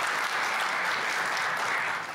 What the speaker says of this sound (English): give a round of applause for the work they've done